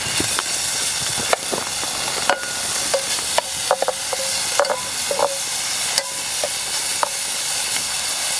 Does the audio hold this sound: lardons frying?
yes